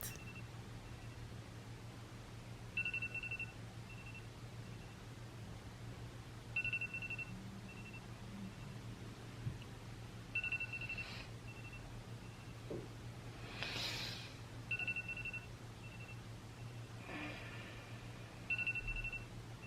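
Phone alarm ringing in a bedroom, a repeating electronic ringtone pattern sounding every few seconds at moderate level over a quiet background hum, with some rustling movement between rings.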